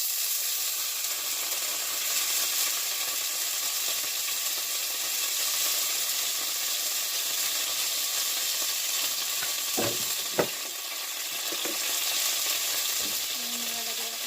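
Butter sizzles in a pan as cooking begins for Chowking-style beef chowfan fried rice, a steady close hiss with a few sharp clicks of a utensil near the end.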